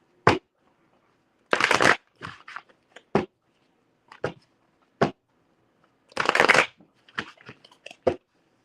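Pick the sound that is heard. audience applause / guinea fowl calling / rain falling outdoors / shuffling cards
shuffling cards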